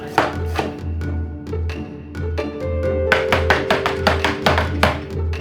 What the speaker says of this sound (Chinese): 酸菜细细剁碎，